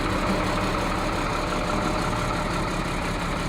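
A tow truck's engine idles steadily with its PTO engaged, a continuous, even mechanical rumble with no talk over it.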